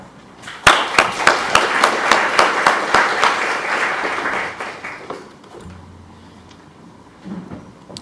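An audience at a research talk on media use in Ukraine breaks into brisk, loud applause to welcome a speaker, the clapping swelling fast and then thinning away after several seconds, leaving quiet room noise and a faint voice.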